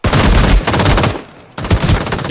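Bursts of automatic gunfire from the video game Ring of Elysium, loud and close, with a brief lull near the middle before the rapid shots resume.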